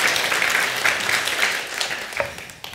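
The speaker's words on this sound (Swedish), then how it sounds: "En applåd först." An audience at a presentation about a local digital agenda applauds, with a steady wash of clapping from many hands that thins out toward the end.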